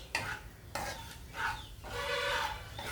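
Shahi jeera (caraway seeds) sizzle in a pan while a spoon scrapes and stirs them in several distinct strokes, close and moderately loud over a soft frying hiss.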